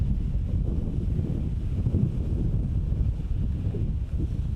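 Wind gusts buffet the microphone outdoors during metal detecting, a steady low rumbling roar filling the whole stretch with no other clear sounds.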